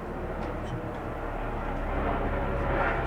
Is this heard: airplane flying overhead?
yes